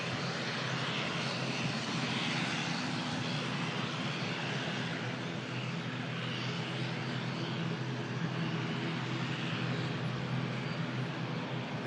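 A Loganair propeller airliner's engines running at an airport, a continuous broad roar with a low droning hum, heard from a distance at moderate level and steady throughout.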